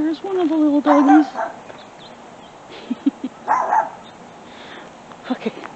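A small dog barks in a few short, sharp yaps out on a neighborhood walk, fairly faint and spaced apart, with a person's voice heard briefly at the start.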